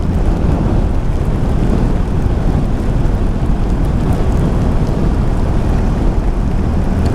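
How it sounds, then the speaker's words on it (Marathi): Heavy rain with thunder pours on the Mumbai–Goa highway (NH 66) near Nandgaon in a dense, loud roar with a deep rumbling underneath, constant throughout with no voices. "पुढे पाऊस नाही पडला वाटतं आता पडतोय"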